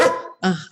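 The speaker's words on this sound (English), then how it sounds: "Sorry about my dog." A pet dog gives two quick, loud barks close by indoors, with a short pause between them.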